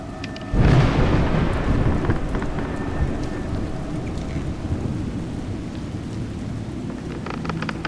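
In the video game A Juggler's Tale, a sudden crack of thunder rumbles into steady heavy rain pattering on surfaces, the downpour continuing loud and even after the thunder fades.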